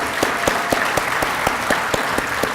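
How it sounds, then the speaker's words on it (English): Audience applause for award participants coming forward at a desert awards ceremony, steady dense clapping from a crowd with sharp hand claps standing out, loud and continuous with no talk over it. "can we have a round of applause for all the participants?"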